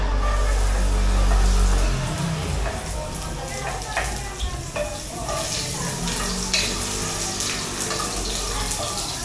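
Garlic frying in a pan over a wood fire, a steady close sizzle with stirring scrapes and clinks running throughout, a low rumble at the start and faint background activity.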